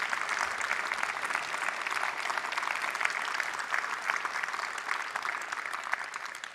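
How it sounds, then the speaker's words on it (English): Applause for volunteers rises from the audience at the WHC 2018 closing ceremony, a sustained, moderately distant wash of many hands clapping at a steady level with no talk over it. "can I just ask you to give a big round of applause to all of the volunteers"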